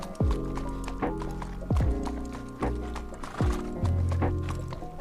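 Horse hooves clip-clopping in a TV drama, a series of heavy, close, resonant hoof strikes spaced about a second apart, with a brief tonal whinny-like sound late on.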